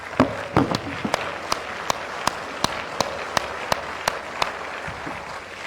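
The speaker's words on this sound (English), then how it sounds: "join me while standing as we give His Excellency a round of applause for this" Standing audience applauding at an Edo State health insurance enrollment event, steady clapping with distinct sharp claps ringing out at a regular pace, fairly close and clear, with little talk underneath.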